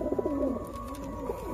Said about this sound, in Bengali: তো ফ্রেন্ড সব পায়রা আমার ভেতরে ঢুকে আছে অলরেডি